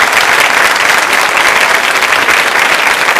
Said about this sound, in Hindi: उनके सम्मान में बजाइए तालियां आप।